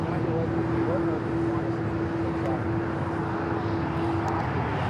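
An Air France Boeing 777-300ER takes off at LAX, giving a steady, loud jet roar with a sustained engine tone that holds evenly throughout.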